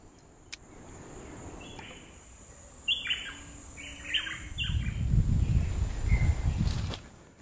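Tropical birds sing in a rainforest in American Samoa, giving several short bright chirps in quick bursts over a soft insect hum, with a rustle of nearby footsteps growing toward the end.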